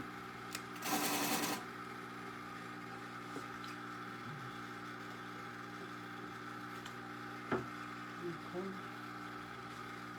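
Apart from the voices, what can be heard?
water pump still running on a lapidary grinder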